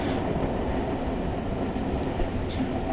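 A train rolls along in the Tokyo Dark video game, a steady loud rumble of wheels on track with faint rhythmic clatter and a brief high metallic squeal near the end.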